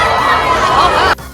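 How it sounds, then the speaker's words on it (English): A crowd at a fire dragon show in Da Nang, Vietnam erupts in dense, excited cheering and shouting, a loud continuous roar of many voices that cuts off abruptly near the end. "that's why the crowd got excited all of a sudden"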